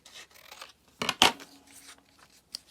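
A few sharp snips of scissors cutting tags, with a quick pair of louder cuts in the middle and faint rustling around them.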